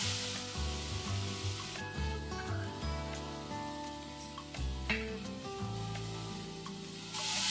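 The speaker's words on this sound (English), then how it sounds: "we're going to saute these onions till they are nice, soft and translucent" Onions sautéing in a pan with salt give a steady, close sizzle throughout, with faint stirring and scraping mixed in and no talking.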